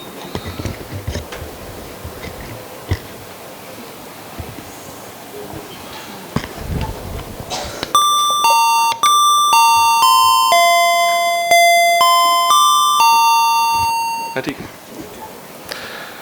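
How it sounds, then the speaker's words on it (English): An electronic alarm chime plays a bright melodic sequence of tones at a morning event, loud and sustained for several seconds after a stretch of crowd noise and murmuring. "This was just an alarm to wake you up."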